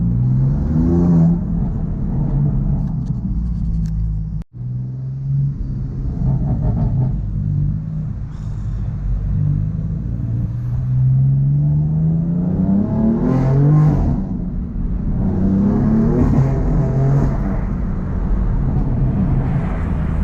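Stage 3 tuned BMW M4 accelerating on the road with heated tires, a loud steady engine roar that rises and falls with revs and gear changes, heard up close from inside the car with no talk.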